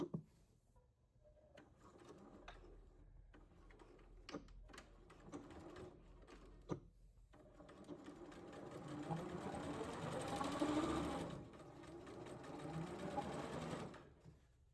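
A sewing machine stitches a straight line on a skirt dart, starting with scattered clicks and handling noises, then running steadily, faint and close.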